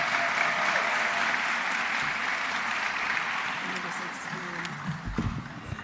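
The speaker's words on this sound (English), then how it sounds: "please give each of the finalists at the regional level a round of applause" Audience applause for regional finalists at a Mathematics Teacher of the Year ceremony, steady moderate-level clapping that thins slightly near the end, where a few louder thumps break through.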